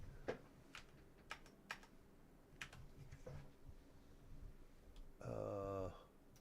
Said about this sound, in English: now I need my keyboard